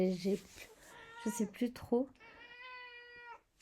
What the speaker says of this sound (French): Je suis vraiment désolée pour le chat qui n'arrête pas de miauler.